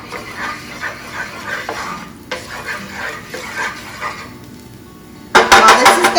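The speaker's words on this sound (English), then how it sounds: "I am stir frying the garlic" Garlic stir frying in a pan for pork chops, a soft continuous sizzle with scraping stirs, then a sudden louder burst of crackling spatter near the end.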